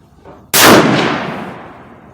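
A single Savage Axis .308 bolt-action rifle fired at a 25-yard target, one sharp, very loud close blast with a long decaying boom that fades over about a second and a half.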